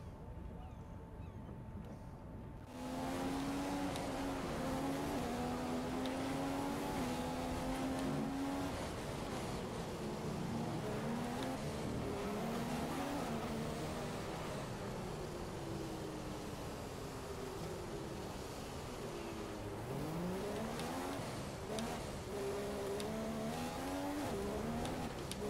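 F1 2015 race car on PS4 pulling out onto the Monaco track for qualifying: a high engine whine rises and falls through gear changes as it accelerates, steady and close, with no talk over it.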